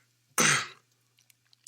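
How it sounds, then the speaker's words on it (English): A single short, forceful throat clearing close to the microphone during a podcast, a rough rasp lasting under half a second, followed by near silence with faint small clicks. "I'm like clearing my throat"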